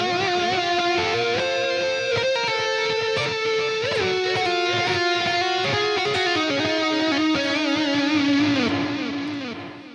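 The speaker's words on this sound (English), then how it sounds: "Here's the lead" Sustained electric guitar lead melody through a Line 6 Helix lead preset, smooth overdriven tone, notes gliding and bending continuously, loud and close with no voices.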